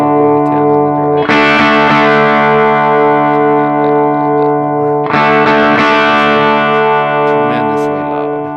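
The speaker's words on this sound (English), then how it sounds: "Now we'll go to 10 on the drive." Electric guitar played through a Red Plate amp with the drive set to 10 and a Blackloop humbucker, giving loud, saturated distorted chords that ring out and sustain, with a fresh chord struck about four seconds in.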